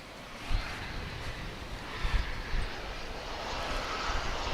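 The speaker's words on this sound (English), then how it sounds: "morning flight to Phoenix, which American Airlines operates on with a dreamliner" An American Airlines Boeing 787 Dreamliner on the morning flight to Phoenix from DFW International Airport gives off a broad, fairly loud engine roar with gusty low buffeting, heard alone without voices.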